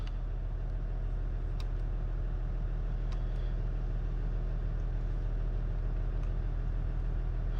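A diesel Jeep Gladiator engine idles with a steady low rumble heard from inside the cab, continuous and even throughout, with a few faint clicks on top.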